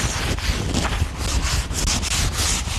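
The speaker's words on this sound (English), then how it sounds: "Just take your sandpaper and just run it along those edges." Sandpaper rubs along the rough edges of a wooden staircase, making continuous scratchy strokes that come in repeated passes, close-up and fairly steady, with no voices.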